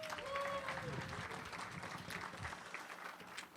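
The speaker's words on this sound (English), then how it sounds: "let's have another hand for Justin" An audience at a haunted house industry awards ceremony applauds for Justin, a steady wash of clapping from a full room that holds for a few seconds, with a voice faintly over it.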